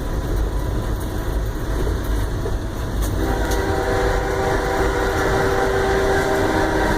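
A train rolls steadily down the track, with a continuous loud rumble and rail noise and a sustained horn-like tone entering midway, no voices.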